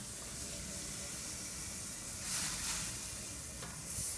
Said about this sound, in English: You can see the char marks sizzling away there.